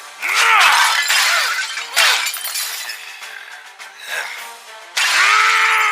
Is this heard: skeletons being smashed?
yes